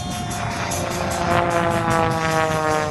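Fagen MX2 aerobatic airplane pitching up and rolling over at an air show, a loud, steady propeller drone with a rough, buzzing engine tone that holds throughout.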